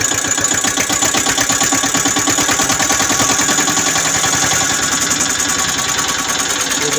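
A 2004 Eicher 242 Super Star diesel tractor engine idles up close, loud and steady with a rapid, knocking chug that never lets up.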